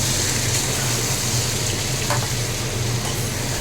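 Taro, potato and eggplant sizzling and frying in a pan while being stirred with ground spices, a continuous loud hiss with occasional soft scraping of the spoon, close up and without talk.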